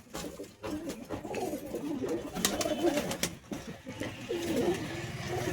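Pigeons cooing in a loft among a pigeon collection, soft low repeated coos rising and falling close by, with a steady murmur of background noise throughout.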